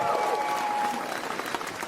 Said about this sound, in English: All right, now round of applause.